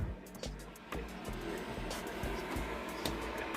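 A small space heater runs with a steady low mechanical hum and a faint rhythmic ticking, continuous and quiet, its fan whirring in the background.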